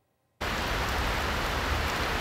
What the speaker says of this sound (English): that rain is just the beginning of cool weather coming our way